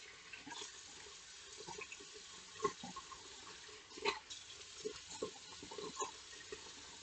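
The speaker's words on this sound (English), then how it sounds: "Let me wash out the microdermabrasion." Tap water runs steadily into a sink as a face is rinsed clean of microdermabrasion product, with soft splashes and irregular bursts of water against hands and skin, close and fairly quiet.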